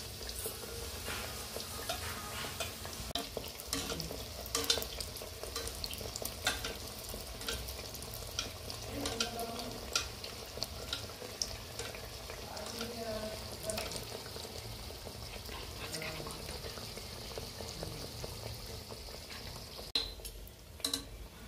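A Dhakai paratha fries in oil on a medium flame, giving steady, crackling sizzles and bubbling throughout, with occasional light clinks of utensils.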